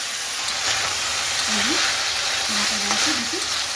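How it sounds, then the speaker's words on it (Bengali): Pumpkin stalks fry with salt in a pan, a constant hiss and sizzle with occasional stirring scrapes, while a voice talks quietly underneath. "অল্প পরিমাণে একটু লবণ দিয়ে দিই, দিয়ে একটু নেড়ে ছেড়ে একটু ভেজে নিচ্ছি।"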